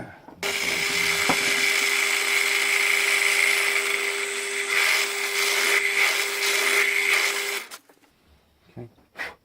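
A drill bit bores a hole into a wooden pipe blank turning on a wood lathe, a steady loud whirring grind with a constant motor hum that runs for about seven seconds, then stops and a few faint knocks follow.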